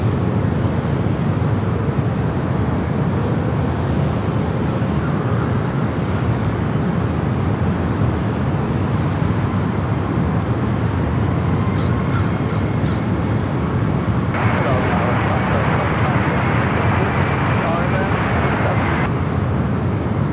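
Southwest airliner taking off from runway 27 at San Diego airport; a loud, steady broadband jet roar fills the whole stretch without letting up, while crows caw nearby over it.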